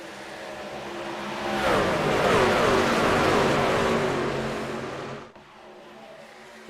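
NASCAR trucks roar hard as the pack accelerates on a green flag restart with 36 laps to go at Auto Club Speedway, engines swelling loud and close, then fading off before a sharp cutoff near the end.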